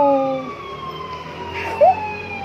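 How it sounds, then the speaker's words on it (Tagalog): A curfew siren sounds across a provincial town, a steady distant wail with faint rising tones drifting under the ambient noise and a brief louder swell near the end. "Narinig niyo yung sirena guys? Yan, hudyat na ng curfew guys."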